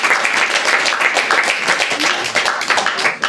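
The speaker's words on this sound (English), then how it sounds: "Let's give the poets another round of applause." Audience applause for poets at a hybrid poetry reading, dense and steady clapping from a crowd filling the whole moment, close and loud with no talk over it.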